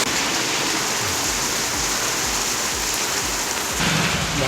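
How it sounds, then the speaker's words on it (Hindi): Heavy rain pours steadily late at night, a dense, loud, continuous roar of drops striking surfaces with low thumping patter underneath, growing slightly fuller near the end. "रात के 11 बजे ये हो रही है बारिश बहुत तेज़"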